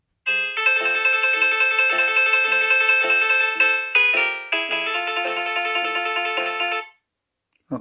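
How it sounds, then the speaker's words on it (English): Another ringtone sounds from a Samsung Galaxy S8 at maximum volume, a bright, rhythmic electronic melody with pulsing notes that shifts pattern midway and stops abruptly near the end, close with no talk. "Let's do a different ringtone on the S8 now."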